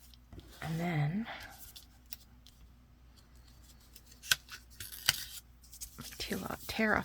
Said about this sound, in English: I'm just tearing off the paper corner to reduce the bulk.